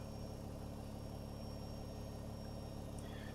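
Steady low mechanical hum of Boeing 767 engines spooling up in the X-Plane 11 flight simulator, a continuous even drone with no distinct peaks, heard alone.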